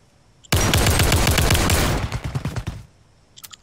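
Rapid burst of loud gunfire from a shotgun in the co-op shooter Zero Caliber, a dense three-second volley that breaks into separate closer shots before stopping, with a few faint clicks afterward.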